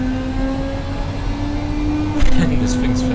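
A video game car engine in Automation hums at steady idle, then briefly revs up with a rising whine near the end.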